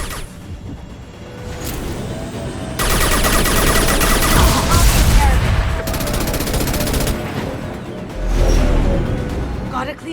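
Combat against guards in the video game Mass Effect 2 brings dense bursts of automatic gunfire, loud and close, with heavy volleys swelling and easing over several seconds.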